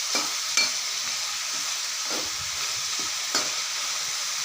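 Ingredients sauté in a pan with a steady close sizzle, broken by a few soft scraping stirs of a spatula, and no voices.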